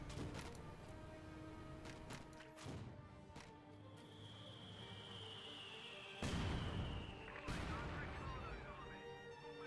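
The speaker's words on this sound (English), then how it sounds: "Great hits coming out from the mortar pit." Mortar and artillery blasts go off in Company of Heroes 2 as repeated sharp booms with one whistling shell, mixed with battle noise and a commentator talking throughout.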